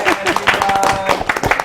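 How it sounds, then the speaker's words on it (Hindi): A Ramadan transmission studio audience claps briefly for a guest, a short burst of close applause with talk over it. "अदिल भाई के लिए तालियां"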